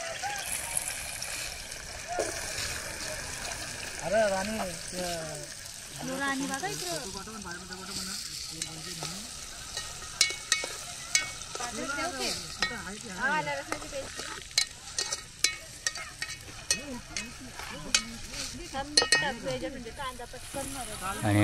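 Chopped onions sizzle and fry in a pan over a wood-fired stove as a utensil stirs them, with soft scraping clatters building toward the end and someone talking over the crackle.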